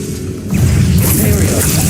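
An Incendio fire spell cast in Hogwarts Legacy bursts out as a sudden loud whooshing flare that swells halfway through and holds as a dense roaring rush.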